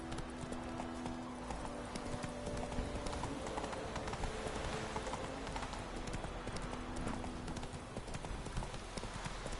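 Horse hooves trot in a steady rhythmic clip-clop in The Witcher 3 on PS4, sounding close and continuous over faint ambient game sound.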